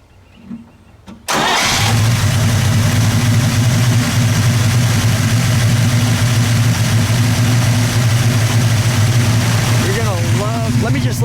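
A 1964 Pontiac GTO's 389 V8 engine cranks and catches, then settles into a loud, steady, deep idle that rumbles evenly for the rest of the clip.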